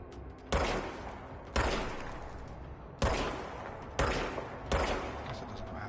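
Service weapon gunfire in the video game Control: five loud, evenly spaced single shots, each a sharp crack followed by a long echoing decay, with no talking.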